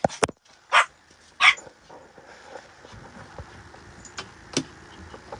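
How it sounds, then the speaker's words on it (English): A dog gives a few short, loud barks near the start, then falls quiet, leaving a soft indoor background with faint scattered sounds. "let me show you the new dog."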